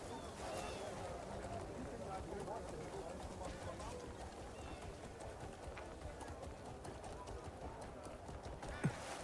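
Faint horse hooves clip-clop steadily in Crimson Desert, a video game, a low rhythmic patter in the background beneath speech.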